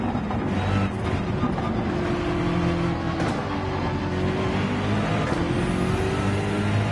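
A Ferrari 458 race car engine drones loudly in Gran Turismo 7, a sustained rising and falling motor tone as the car passes close by, with brief higher whines and no speech.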